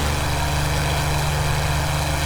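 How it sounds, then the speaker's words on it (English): A Supermarine Spitfire's Merlin engine drones in the P3D flight simulator, a loud, unbroken low-pitched roar with a steady propeller hum that holds level throughout. "Bit of a change in the engine tone there."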